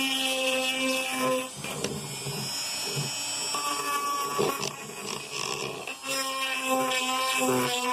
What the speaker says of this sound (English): All right, so we're gonna get in here with this die grinder.